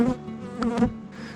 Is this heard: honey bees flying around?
yes